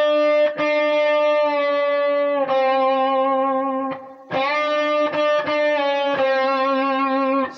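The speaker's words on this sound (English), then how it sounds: "When I'm bending, I pick two of those fifths, release a little bit, get the flat five" Distorted electric guitar plays a sustained lick with string bends, a picked fifth released down to a flat five, loud and alone with short gaps between phrases.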